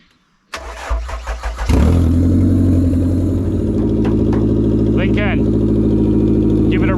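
A demolition-project Toyota Camry cranks with a few rapid starter turns, then fires up and settles into a loud, rough, steady idle close by, with a person speaking over it.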